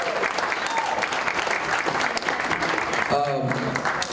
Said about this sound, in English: Come on guys, round of applause.